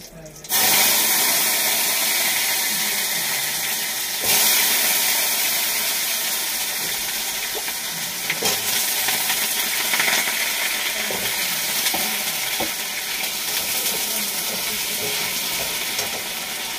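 Potatoes with white cumin seeds sizzle steadily in a hot pan, a loud continuous frying hiss with occasional stirring clinks, and no talk over it.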